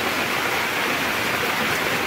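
Heavy overnight typhoon rain pours steadily during flooding in Occidental Mindoro, a dense continuous hiss with no breaks, loud and close throughout.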